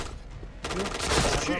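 A burst of rapid video game gunfire erupts after a brief, muffled lull, loud and close.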